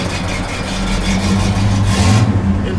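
Loud, close rumble from a running 1969 Pontiac Grand Prix engine, a deep steady idle that swells slightly as if given a little throttle, with no voices over it.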